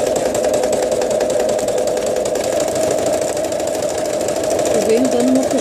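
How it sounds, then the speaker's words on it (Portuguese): Sewing machine running steadily while stitching fabric and plastic for an oral hygiene kit, a continuous close mechanical hum and rapid needle chatter throughout, with someone talking over it. "vou arrumar a máquina e vou passar essa costurinha aqui"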